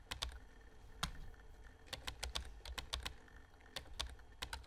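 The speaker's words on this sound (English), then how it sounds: "Gotta love all those typing noises." Quick bursts of keyboard typing sound effects in a video game, sharp clicky keystrokes in uneven clusters with short pauses between, fairly quiet and close, no voices.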